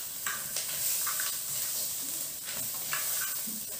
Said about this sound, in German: Und den rösten wir jetzt auch schön mit dem Gemüse und den Hummerkarkassen an.